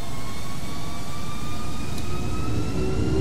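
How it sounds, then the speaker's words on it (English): A loud, steady Boeing 757-200 jet engine roar in a flight simulator, with high whining tones, continuous and close, without voices. "I love the sounds of the 757s"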